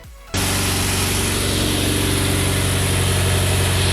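A 2008–2015 Mitsubishi Evo X engine with new intercooler piping cranks and catches after a brief quiet moment, then settles into a loud, steady idle with a deep rhythmic rumble right beside it.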